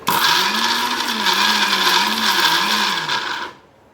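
A mixer grinder blending cabbage chutney runs with a loud, steady motor whine and churning roar whose pitch wavers slightly, lasting about three and a half seconds before winding down.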